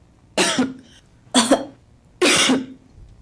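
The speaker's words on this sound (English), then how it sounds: "coughing is actually a very nice sound" Three separate harsh coughs, each a short burst with a rough tail, spaced about a second apart with quiet in between.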